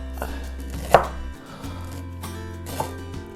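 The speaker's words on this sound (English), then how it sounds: "I'm going to cut some strips and then really finely cut it down" A knife julienning fresh ginger on a cutting board: a few distinct chopping knocks against the board, one sharper than the rest, over a low steady hum.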